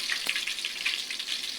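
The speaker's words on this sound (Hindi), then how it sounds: "आलूओं को हम फ्राई कर रहे हैं" Cut potato pieces frying in hot oil in a pan after aubergine, a dense, even, hissing sizzle that stays close and continuous throughout, with no voices.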